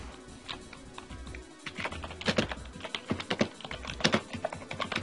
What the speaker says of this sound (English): Slam that keyboard, girl.